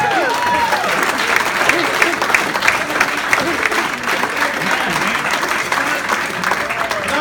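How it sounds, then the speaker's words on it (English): A comedy club audience applauds comedian Matt Brown at the end of his set, dense continuous clapping with a few cheers and whoops, loud and close throughout. "Nice round of applause for Matt Brown"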